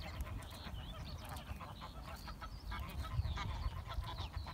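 Waterbirds at Eccup Reservoir in Leeds, likely ducks or geese, honking and calling repeatedly in overlapping bursts over steady outdoor rumble, fairly close and lively throughout.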